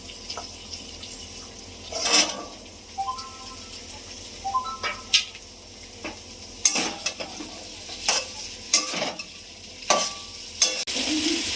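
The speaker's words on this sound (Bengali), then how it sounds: "টুকরো করা আলুগুলো দিয়ে দিলাম সেদ্ধ করা কাবলি ছোলা" Potato pieces and boiled chickpeas fry in a pan for chana masala, a steady sizzle broken by repeated scraping stir strokes and a few clinks from utensils, close up and without speech.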